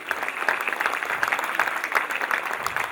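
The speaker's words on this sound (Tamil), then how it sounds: "மீண்டும் ஒரு அன்பான கரகோஷங்கள்" An audience at a stage show claps in a dense, steady burst of applause that carries on unbroken, fairly close.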